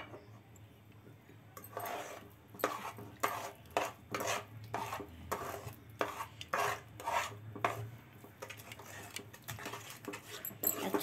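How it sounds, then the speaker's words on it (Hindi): A spoon stirs a peda mixture in a pan as milk is gradually added: faint, rhythmic scraping and tapping strokes, close and quiet with no talk. "अब दूध डालते जाएंगे और चलाते जाएंगे इसको।"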